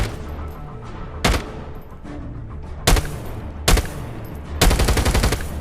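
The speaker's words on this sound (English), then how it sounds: "Yes, the firing sound is little bit different, but it is less noticeable." Bursts of automatic gunfire from the Kilo 141 Demon Song rifle in COD Mobile play as four sharp, loud volleys over a low background hum. The last burst runs longest.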